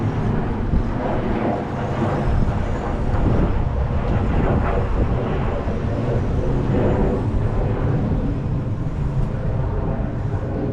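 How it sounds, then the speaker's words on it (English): A distant airplane passes overhead at an outdoor RC race track, a broad, steady rumbling roar that swells slightly mid-way and stays fairly faint and continuous. "There's that airplane."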